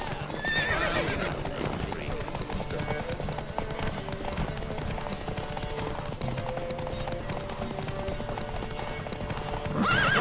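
Hooves clip-clop steadily through a busy soundscape with music in The Witcher 3: Wild Hunt, and a horse whinnies near the start and again at the end.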